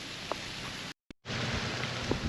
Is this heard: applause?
no